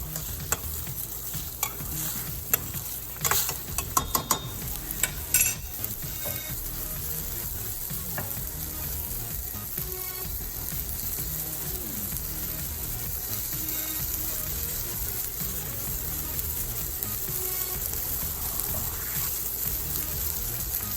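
Cashews simmering in plain water in a pot on a stovetop, a continuous bubbling, hissing sizzle with a few clinks and stirring knocks early on, steady and close.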